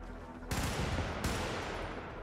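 In the Helldivers video game, a machine gun opens fire abruptly after a quiet start, a sustained burst of rapid shots with a second sharp onset partway through, loud and close.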